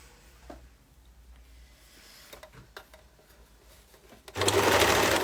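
A sewing machine stitches the front piece of a pair of leggings, right sides together along the crotch seam; after a few quiet seconds of small handling noises, a steady, close whirring run of stitching starts near the end.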